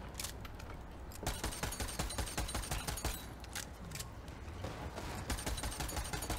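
Dense, faint rattle of gunfire in Borderlands 3, with rapid continuous shots under a steady noisy game mix and no pause.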